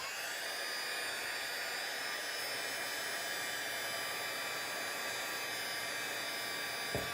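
A heat tool blows steadily on embossing powder on a card, a constant airy whirring hiss held at one level throughout, ending with a faint click.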